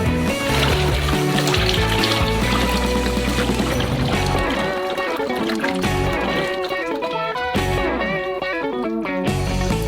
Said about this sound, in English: We're going to take it off the heat and pour it into the mold